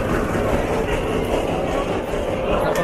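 A train at a busy railway station gives a steady, loud rumble over several seconds, blended with crowd hubbub on the platform.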